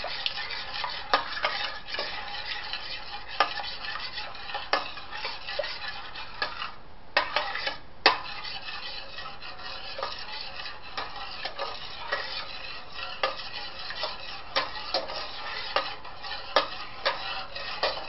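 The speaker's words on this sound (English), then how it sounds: "You have to keep stirring and stirring and stirring." A spoon stirs mac and cheese sauce in a pot, with soft continuous scraping and bubbling and frequent light clinks of metal on the pot's side, close and fairly quiet.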